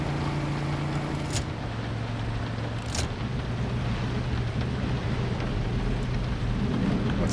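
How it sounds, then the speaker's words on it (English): Steady freezing rain in the video game Crabmeat, a continuous close hiss with low rumbling underneath and a couple of brief sharp cracks. "Oh, it's raining."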